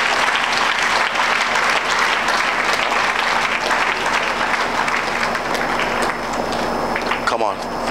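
Congregation claps hands together in a church worship service, a dense, steady roar of applause lasting throughout, with voices mixed in beneath the clapping.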